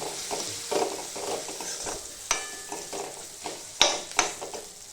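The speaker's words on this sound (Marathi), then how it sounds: "तो तेलामध्ये चांगला फ्राय होऊ द्यायचा" Homemade onion masala with turmeric fries in oil in a pan, giving a soft sizzle under uneven stirring and scraping, with a few sharper clinks of a spoon against the pan.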